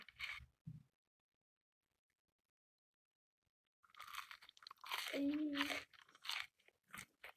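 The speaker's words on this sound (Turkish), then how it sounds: "Kıtırtarak yiyor bir de." Crunchy food being chewed close to the mic, a dense burst of crisp crunching after a long silence, with a short murmur of talk before and some voice sounds around it.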